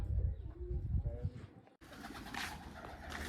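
Soft, low cooing of pigeons close by, a few murmuring calls, followed by a brighter, noisier background after a sudden cut.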